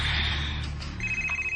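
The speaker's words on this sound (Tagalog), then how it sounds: "Nanawag si Adang" A telephone rings with a steady electronic bell tone, loud and close, heard alone without any talk.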